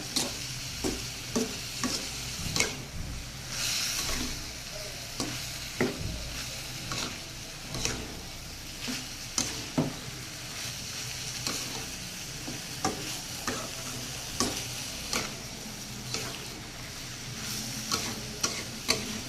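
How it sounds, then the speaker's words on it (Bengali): Bottle gourd frying in a pan as it is stirred and mixed: a steady background sizzle cut by repeated sharp scraping and tapping strokes of the spoon against the pan, close and fairly rhythmic throughout, with no voices. "এবার লাউটাকে বেশ ভালো করে নেড়ে চেড়ে মিশিয়ে দেব।"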